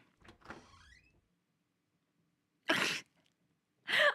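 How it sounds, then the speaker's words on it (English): Two short bursts of a door sound effect in an otome video game, each a brief noisy whoosh-like swish separated by silence, following a faint earlier sound. "I heard the door sound effect and thought someone actually walked into the room I'm recording it"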